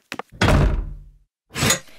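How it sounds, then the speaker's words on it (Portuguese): A cartoon door swings shut with a quick light knock-like tap, a heavy thunk, then a second sharper latch or lock clack a moment later, close and alone with no voices. "Ziharka, tranque a porta. E não deixe a raposa entrar."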